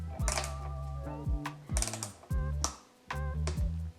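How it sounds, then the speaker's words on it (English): A torque wrench tightens a bicycle bolt with a series of close ratcheting clicks in short repeated bursts, each stroke followed by a brief pause. Nobody speaks. "It will give you like a little click which tells you it's at the appropriate torque."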